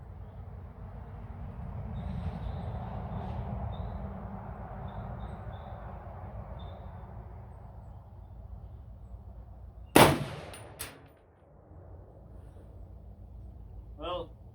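A single sharp, loud crack from a 6.5 Creedmoor 16-inch AR-10 rifle fired at an outdoor range, followed by a fast echo, after a stretch of low background rumble with people talking.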